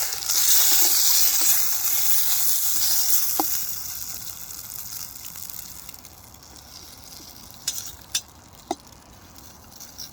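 Steak sizzling over a campfire, a bright hissing fizz that is loud at first, then settles into a softer crackle with a few sharp pops toward the end.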